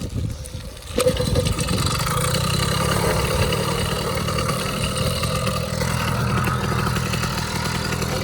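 A small 80cc motorized bicycle engine catches after a second of quiet and then holds a steady, buzzing idle close by, continuous and fairly loud.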